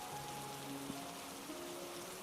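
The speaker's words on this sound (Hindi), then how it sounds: "बहुत तेज बारिश, मानो आंधी तूफान आ रहा हो" Heavy, steady rain pours as a dense continuous hiss, like a storm building, with no break in the downpour and faint tonal hum lines running beneath it.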